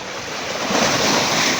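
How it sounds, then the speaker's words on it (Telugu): Ocean surf rolling and breaking on a shore, a steady close wash of waves that swells louder partway through, with wind noise over the microphone. "ఎప్పుడైనా పెద్ద అల వచ్చి కొడుతుంది"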